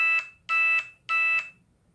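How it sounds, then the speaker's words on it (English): An electronic alarm beeps three times during a Sunday service at a spiritual center, in an even rhythm, each tone loud and sustained, with near silence between. "that beeping sound, which is abundant in my life"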